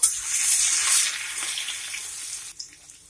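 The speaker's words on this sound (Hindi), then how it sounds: "अब इसमें हम लहसुन और हरी मिर्ची डाल के हल्का सा भूनने के बाद प्याज डाल लेंगे" Garlic and green chilies frying in a kadhai give a steady hiss and sizzle, loudest early on, then dropping off abruptly near the end as the heat or stirring changes.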